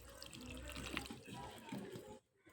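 Water splashes and pours into a mixer jar for about two seconds, close and moderately loud, then cuts off to near silence.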